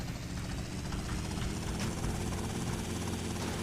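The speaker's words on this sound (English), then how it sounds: "Land the helicopter like that" A helicopter lands in GTA Vice City with a steady, heavy rotor thrum and low engine rumble, loud and continuous with no voices.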